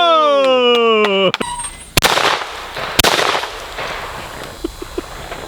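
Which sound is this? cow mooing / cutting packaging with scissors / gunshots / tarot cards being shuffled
gunshots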